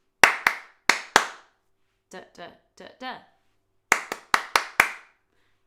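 Hands clap a rhythm in a sing-along session: three sharp claps, then a voice sings four syllables imitating the pattern, then five claps answer it, all close and crisp against silence.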